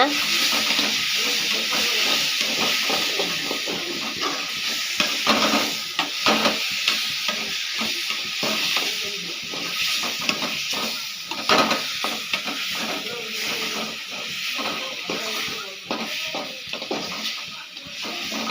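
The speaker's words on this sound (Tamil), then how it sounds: "கொஞ்சமாக கருவேப்பிலை, கொஞ்சமாக மல்லி இலை போட்டு வதக்கிக்கலாங்க." Curry leaves and coriander leaves sautéing in a pan for chicken gravy masala, a bright steady sizzle broken by quick rhythmic spatula scrapes and stirs, close and fairly loud.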